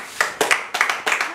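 Brief burst of audience applause at a women's empowerment foundation gathering, with several close, crisp rounds of clapping in quick succession.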